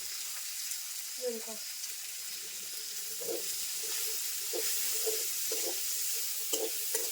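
Green chillies sizzle and spit in hot oil left from frying pangas fish, over a steady frying hiss with occasional stirring scrapes and brief clinks, close and moderately loud; faint voices in the background.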